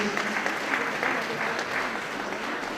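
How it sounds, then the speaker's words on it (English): An indoor audience at a gift presentation claps steadily for the recipient, producing a dense, even wash of applause that holds for the whole stretch without breaks. "Let us clap for her."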